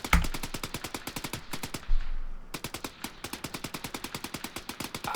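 Machine gun fire in the video game Arma 3: loud, rapid, evenly spaced shots in sustained bursts, with a short break partway through before the steady automatic fire resumes.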